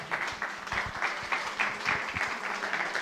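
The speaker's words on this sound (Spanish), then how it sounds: "Damos un fuerte aplauso al Señor." A congregation at a church Bible study applauds together, giving a steady, moderately loud patter of many hands clapping without a pause.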